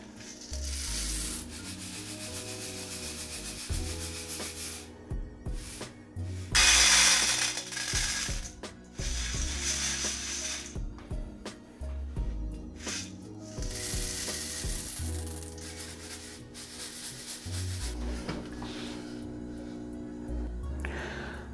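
Freshly roasted coffee beans tumbling and rubbing in a metal colander as they cool, a steady dry rattling and scraping that continues throughout with louder bursts, set against background music.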